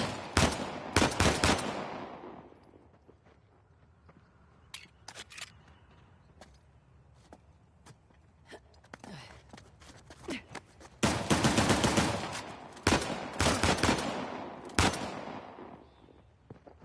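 Bursts of automatic gunfire from a mountainside shootout in the action video game Uncharted: The Lost Legacy, with a dense volley at the start and a longer sustained barrage later, separated by quieter stretches of scattered shots.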